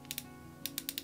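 Buttons on a HIKMICRO rifle scope clicked during zeroing, a few sharp, small, close clicks: two quick ones, a pause, then a rapid run of four, faint over a low steady hum.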